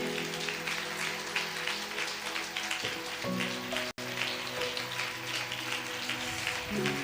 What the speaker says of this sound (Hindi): क्या हम जोर से जीवित परमेश्वर के लिए ताली बजा सकते हैं?